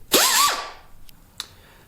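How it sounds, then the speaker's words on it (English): A die grinder bites into a hardened steel go-kart sprocket in one loud, close, screeching burst that falls away, followed by a couple of short sharp ticks. "plan C is going to resort to a die grinder"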